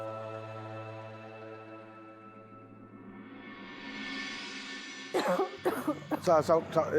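A young woman chokes and coughs in a domestic Marathi TV drama scene: a sudden cluster of harsh, close coughing bursts follows a stretch of sustained background music.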